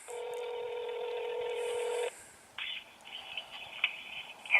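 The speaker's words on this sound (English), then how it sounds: "Now let's see if we can make a phone call. This is an iPhone on Verizon. We've just dialed and we'll see what happens." An iPhone on Verizon placing a call in Sebastopol, California, gives a steady two-second electronic tone, a short pause, then a run of shorter call-progress tones and beeps, clear and close with no talking.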